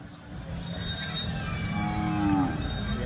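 A cow moos loudly and close by, one long drawn-out low call over a busy outdoor background at the Chalisgaon bull market.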